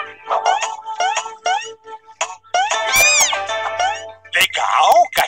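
Kittens meow repeatedly in high, wavering cries that overlap one another, mixed with a child-like voice talking in a Paw Patrol cartoon.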